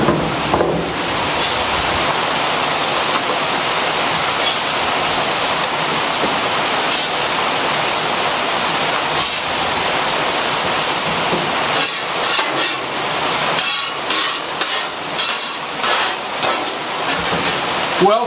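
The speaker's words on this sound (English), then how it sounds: "It is pouring out here now." Heavy rain pours outdoors near a griddle cooking hash browns, a dense, continuous hiss that stays loud and unbroken throughout with no voices.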